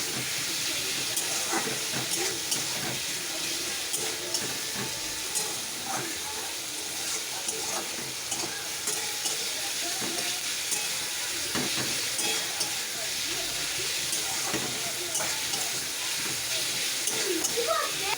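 Onion and garlic fry in a pan for a chicken kosha, giving a steady broadband sizzle and hiss with faint crackles throughout, close and continuous, with a voice talking over it.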